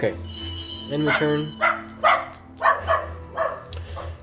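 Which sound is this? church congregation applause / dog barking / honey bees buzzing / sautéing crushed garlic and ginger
dog barking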